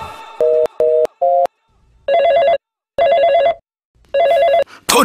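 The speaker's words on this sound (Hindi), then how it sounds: "फोन भी नहीं उठा रही है।" A telephone ringing in a Bhojpuri music video scene: rapid electronic trilling bursts, starting with short beeps and then settling into longer repeated rings with pauses between them, loud and near with no talking.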